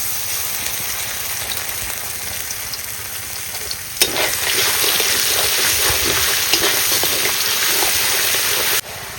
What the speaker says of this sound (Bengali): বড়িটা লাল লাল করে ভেজে নিতে হবে